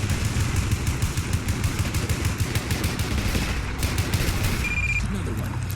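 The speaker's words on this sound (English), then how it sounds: "He's doing shots after shots after shots." Rapid repeated gunfire from a weapon in a heavily modded run of the video game Fallout 4, dense and continuous bursts of shots layered under constant game sound and a rumbling background throughout.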